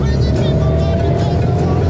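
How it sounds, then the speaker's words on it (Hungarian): Close, loud engine drone of a Citroen 2CV accelerating in first gear, a steady buzzing roar that holds throughout, with someone speaking over it. "aztán szúrtam egy egyest, most gyorsulunk, húzok egy kettest"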